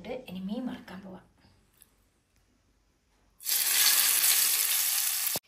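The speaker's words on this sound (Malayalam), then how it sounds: "ഇനി മീൻ വറുക്കാൻ പോവാം." Fish frying in a pan with oil in a home kitchen, a loud steady sizzle that starts suddenly and stays close, coming after someone briefly speaks and a short quiet pause.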